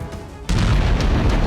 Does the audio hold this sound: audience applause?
no